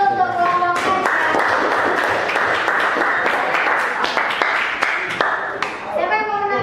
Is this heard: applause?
yes